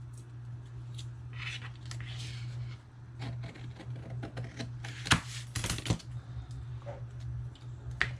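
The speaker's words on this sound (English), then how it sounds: "So I'm going to miter cut all 4 sides." Paper edges are miter cut on all four sides while making a Christmas card box. Quiet, close snips and crisp ticks come in irregular clusters over a constant low electrical hum.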